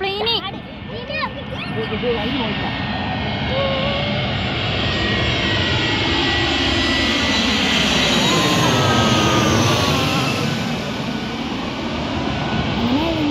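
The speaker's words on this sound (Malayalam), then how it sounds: "ഒരു വിമാനം വരുന്ന വീഡിയോ ആണ്" An airplane's engines roar steadily and grow louder as it approaches Kondotty airport, a broad sustained rumble filling the scene, with faint voices early on.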